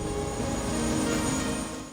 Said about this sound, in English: once the helicopter sits down